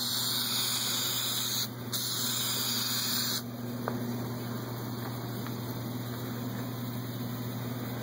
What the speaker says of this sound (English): The spray is so much easier to use.